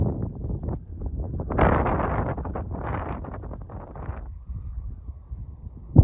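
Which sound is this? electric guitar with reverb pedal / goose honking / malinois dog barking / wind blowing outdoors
wind blowing outdoors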